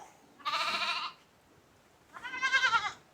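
Sheep in a shepherd's flock bleat twice, two wavering, drawn-out calls separated by a short pause, fairly close and clear against a quiet outdoor background.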